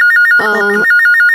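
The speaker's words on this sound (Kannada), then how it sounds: "ಫೋನ್ ಬರ್ತಿದೆ, ನಾನು ನೋಡ್ತೀನಿ." A phone rings indoors in a home, its loud electronic ringtone repeating in quick, evenly spaced pulses, briefly cut through by a short burst of voice and music in the middle.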